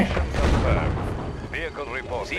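Mobile artillery units firing in the real-time strategy game Red Alert 2, booming shots with rumbling low end mixed with game effects, loud and close, a voice speaking over part of it.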